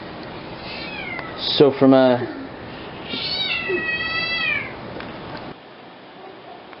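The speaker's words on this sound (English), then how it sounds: "And you can hear my cat whining because the dog keeps messing with him." A cat whines in drawn-out meowing cries, two close loud calls followed by a longer wavering one, with a person talking in the background.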